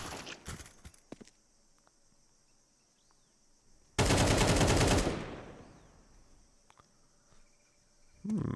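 One long sustained burst of automatic AK rifle fire in a Counter-Strike match on the Ancient map, loud and dense for about a second before trailing off, with scattered footsteps and game effects before and a second burst starting at the end.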